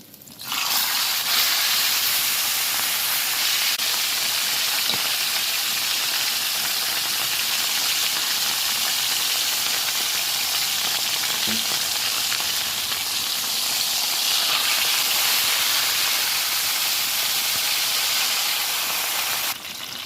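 Fish frying in a pan of hot oil gives off a loud, steady sizzle and hiss that runs unbroken and close up, with no talking over it.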